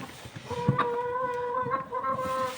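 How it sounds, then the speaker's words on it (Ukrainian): Chickens nearby clucking and making drawn-out calls, fairly soft, with a few scattered background noises. "Покидала хліб, кури з'їдять"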